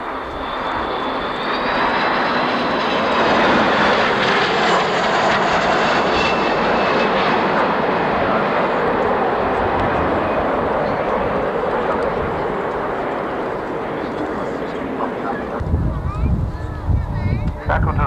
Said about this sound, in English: here indeed comes the AWACS